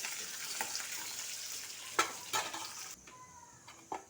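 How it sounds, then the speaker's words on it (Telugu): Chana dal, urad dal, cumin, mustard seeds, garlic and curry leaves frying in hot oil, a steady low sizzle with a few sharp stirring clinks, close and quiet with no voices. "దాంట్లో పచ్చెనపప్పు, మినప్పప్పు, జీలకర్ర, ఆవాలు, ఎల్లిపాయ, కరివేపాకు వేసి మంచి కలర్ వచ్చేదాకా వేపాలి"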